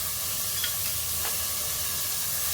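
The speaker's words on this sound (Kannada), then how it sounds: "ಹಾಕ್ಕೊಂಡು ಫ್ರೈ ಮಾಡೋಣ." Eggplant and potatoes fry with turmeric in a pan, giving an even, close sizzling hiss that carries on steadily, with a couple of faint brief scrapes from stirring and no speech.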